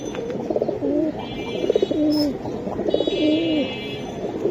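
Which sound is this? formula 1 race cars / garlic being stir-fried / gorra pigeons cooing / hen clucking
gorra pigeons cooing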